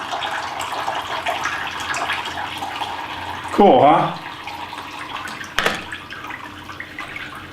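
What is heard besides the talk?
indoor decorative waterfall running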